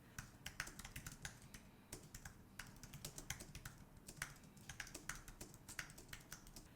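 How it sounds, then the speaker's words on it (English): Steady close-up typing on an Apple Magic Keyboard for a 2019 27-inch iMac, quick light key clicks in uneven bursts, fairly quiet and with no talking. "And I also like the typing sound."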